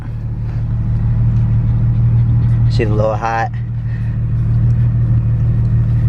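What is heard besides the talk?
loud Nissan 370z car engine running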